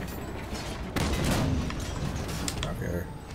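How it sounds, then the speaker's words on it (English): Enemy gunfire in Halo 5 crackles around a player in a tank, with a burst of loud shots and explosions near the middle over a dense battle din, and a voice speaks throughout. "Stop shooting at me, please."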